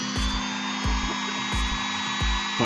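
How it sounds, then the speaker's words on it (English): A small handheld power tool whirs steadily while an action figure is being customized, its drone carrying regular low thumps about every two-thirds of a second, close and fairly loud. "it's gotta have to use the power tools for this stuff, or it takes forever"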